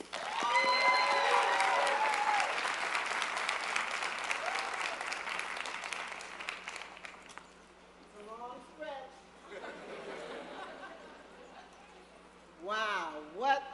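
At a Black graduate celebration in the Quarry Amphitheater at UCSC, an audience welcomes Adilah Barnes with sustained applause that is loud at first and then fades over several seconds, followed by a few scattered voices and cheers.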